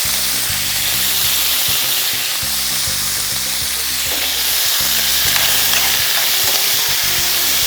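Vegetables with salt and chili fry loudly in a pan, a dense close sizzle with occasional stirring scrapes, over a pulsing low hum in the background.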